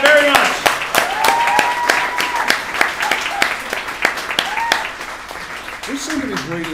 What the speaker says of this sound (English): Clap her on. Welcome her very much.